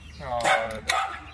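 Dog barking near a chicken coop, two quick sharp barks a short way off, loud against a quiet background.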